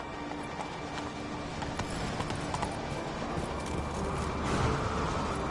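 Hooves of the horse Roach from The Witcher 3 clip-clop in a steady trotting rhythm, close and continuous over a low outdoor ambience, with no voices.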